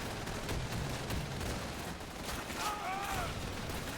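Dense gunfire and mortar blasts in the video game Call of Duty 3 form a continuous loud crackle throughout, a thick wash of shots with no clear gaps.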